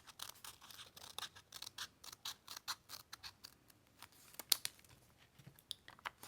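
Scissors cutting out a paper pattern along a curved line, a quick rhythmic series of close, crisp snips and crunches, quiet with no talking.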